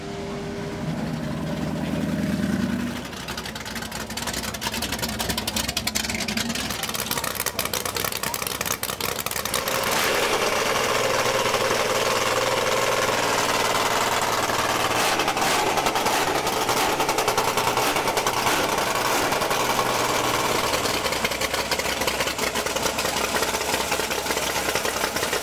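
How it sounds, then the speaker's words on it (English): A 6-cylinder Holden race car engine at a retro drag racing meet revs and idles loudly and close by, with a steady rough roar and rising bursts of revving throughout. "This is one angry sound and 6-cylinder Holden, and I love the smell of that race fuel."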